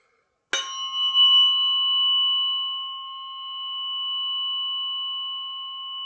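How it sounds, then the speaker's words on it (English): Metal tuning forks from a biofield tuning session are struck once and then ring alone as steady, pure, sustained tones, swelling slightly and holding undiminished for several seconds in a quiet room. "We're following the sound of the forks"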